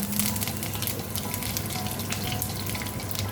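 Curry leaves dropped into hot oil already holding cumin seeds, a loud, dense crackling sizzle that runs steadily through the whole moment with no voices.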